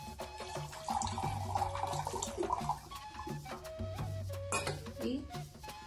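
Water pours out of a peeled coconut, a close gurgling splash with irregular trickles and glugs that stops and restarts, as liquid drains from the shell.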